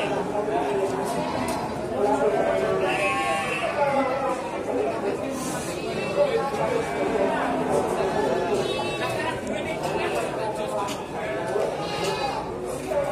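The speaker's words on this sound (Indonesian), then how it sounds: "sedikit review domba merino di Pasar Hewan Sukorjo Kabupaten Kendal milik Bapak Imam" Merino sheep bleat repeatedly amid steady crowd chatter and people talking at a busy livestock market in Kendal, the animal calls mixed into continuous close background noise.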